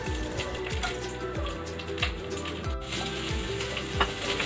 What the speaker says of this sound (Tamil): பேனில் கடுகு, உளுத்தம்பருப்பு, காஞ்ச மிளகாய், கருவேப்பிலை கொஞ்சம் போட்டு தாளிச்சிட்டு